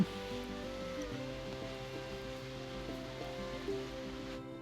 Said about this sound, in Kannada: ಇದರಲ್ಲಿ 4 ಬೌಲ್ ನೀರು ಹಾಕ್ಕೊಳ್ತಾ ಇದ್ದೀನಿ.